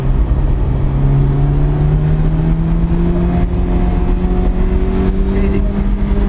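A 1986 Ferrari GTB Turbo engine pulling steadily under load from inside the moving car, a loud continuous drone slowly climbing in pitch as it accelerates, with no voices.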